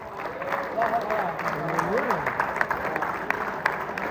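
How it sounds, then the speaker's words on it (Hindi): Applause at an Urdu mushaira poetry gathering at a college in Doha, Qatar, welcoming a guest poet from Pakistan, a steady moderate clapping under a voice that runs through the whole stretch. "आपकी भरपूर तालियों में पाकिस्तान से हमारे मेहमान मोहतरम अफजल खान साहब।"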